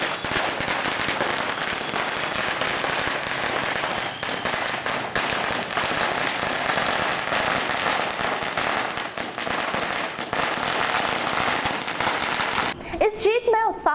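Congress party supporters gathered at Hanuman Chowk set off firecrackers in a street victory celebration, producing a dense, loud, nonstop crackle of rapid bangs that lasts for many seconds, close by, before ending in a sharper burst at the end.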